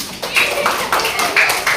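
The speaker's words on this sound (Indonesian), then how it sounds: "Iya, tepuk tangan." A classroom of students clapping hands together in a rhythmic, patterned beat during a lesson, with sharp repeated claps close by and no talking over them.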